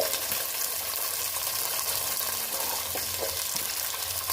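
Garlic cloves and shallots frying in oil in a pan for mutton curry, a steady, close, loud sizzle throughout with faint stirring scrapes and no talking.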